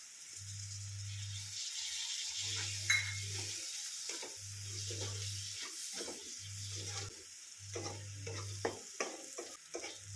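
Chopped tomato goes into a hot pan of toasted spice powders for a Kerala-style crab roast, giving a steady sizzle and frying hiss while a spoon stirs and scrapes, broken by a low pulsing hum in regular bursts.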